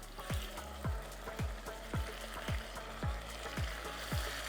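Meat frying in a pan with onions for an Albanian old-style soup with fide noodles, giving a steady sizzle with a rhythmic series of soft taps or stirs about every half second.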